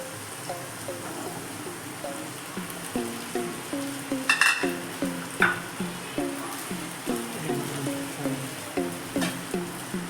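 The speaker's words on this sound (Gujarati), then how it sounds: "હવે આપણે તેને બરાબર મિક્સ કરશું સાબુદાણાને" Sabudana and potato stirred in a pan with soft, regular scraping strokes and a faint sizzle, plus a couple of sharper clinks of the spoon against the pan.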